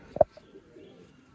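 A single short coo from a Sialkoti pigeon, a male of the original Mian Sahib bloodline, close and fairly soft, followed by faint low murmurs in a quiet setting.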